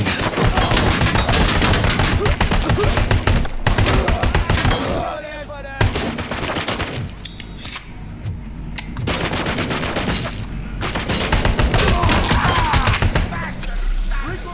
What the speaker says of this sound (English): Heard a grenade.